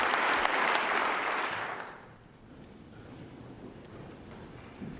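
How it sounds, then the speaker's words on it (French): A large audience in Québec applauds a speaker at a formal address, a loud, dense clatter of clapping that fades away after about two seconds and leaves a quiet room tone. "j'ai bien conscience que ces applaudissements sont pour la France"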